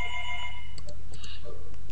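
Doorbell ringing indoors during an online poker cash game session, a couple of short electronic chime tones over a steady low background hum, with no talking.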